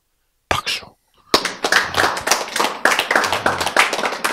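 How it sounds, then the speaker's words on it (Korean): A church congregation claps during a sermon, starting with a brief burst, a short pause, then a lively run of close, crisp handclaps with irregular rhythm and a few voices mixed in. "박수."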